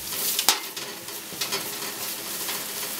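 Asparagus sizzling in a hot pan as it is turned over, a steady close frying hiss broken by a few sharp clicks from the turning, with no voices.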